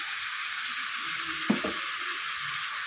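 Chicken masala curry sizzles steadily in mustard oil with ground chilli, turmeric and salt, a dense even frying hiss with a brief louder clatter of stirring near the middle.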